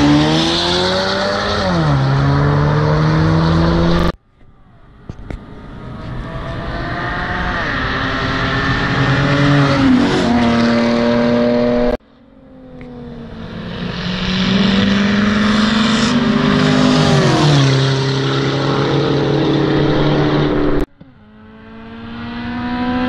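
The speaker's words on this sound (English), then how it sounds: "Viper Z06, that's the new Z06." A Dodge Viper and a new Corvette Z06 street race at night, engines roaring loudly through rising revs and gear changes, cutting off abruptly between runs.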